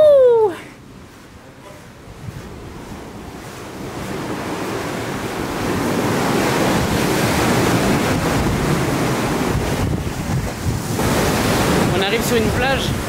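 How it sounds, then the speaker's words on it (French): Steady surf rolls in with gusting wind on an empty, deserted beach, a continuous wash of waves that builds after the first seconds, with a brief vocal sound near the start. "On arrive sur une plage où il n'y a rien autour, personne."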